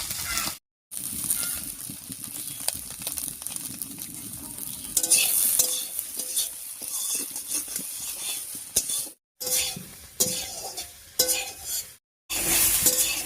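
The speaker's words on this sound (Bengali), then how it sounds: "লবণ হলুদ দিয়ে সয়াবিনটা হালকা করে ভেজে নিয়েছি" Soybean chunks stir-fried in oil with salt and turmeric, a continuous sizzle under busy stirring scrapes and a few light utensil clinks, with brief silent gaps between takes; no talking.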